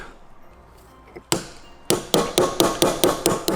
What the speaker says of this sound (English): here I'm taking off the outer shield for the CV axle using a punch and hammer